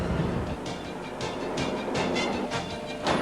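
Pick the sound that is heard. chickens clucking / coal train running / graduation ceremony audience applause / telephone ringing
coal train running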